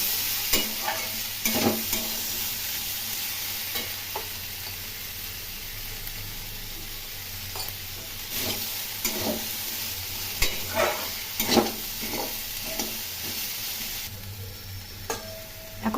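Bitter gourd and potato chachchori being stirred in a frying pan, a spatula scraping and tapping the pan again and again over a steady sizzle, close and moderately loud with no talk.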